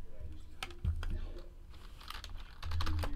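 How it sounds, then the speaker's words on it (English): Keys clatter on a computer keyboard while hit numbers are typed in during a 2017 Leaf Q Multi-Sport card box break, a quick irregular patter of close taps over low room hum and faint background voices. "Let's type in all the hits here."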